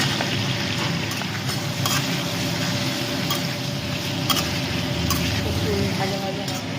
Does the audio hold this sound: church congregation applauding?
no